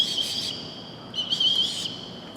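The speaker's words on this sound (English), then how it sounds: "You like my whistle? It sounds just like you." A lifeguard's whistle at a pool gives two shrill, trilling blasts, a short one at the start and a longer one a second later, clear and fairly close.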